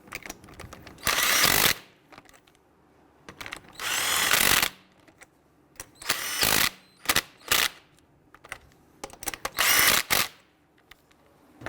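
A power tool snugs down the lug nuts on a 2011-2019 Ford Explorer rear wheel, loud, close whirring bursts of about a second each, repeated six or seven times with short quiet pauses and small clicks between.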